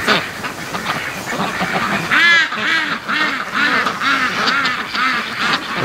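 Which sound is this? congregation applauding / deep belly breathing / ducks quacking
ducks quacking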